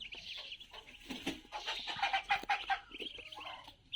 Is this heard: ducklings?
yes